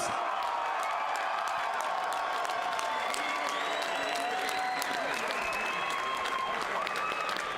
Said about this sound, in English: Fight fans, how about one more round of applause for both these fighters?